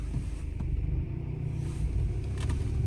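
A Volkswagen Passat B6 in freezing weather pulls away, its engine a steady close low rumble for a few seconds with no voices.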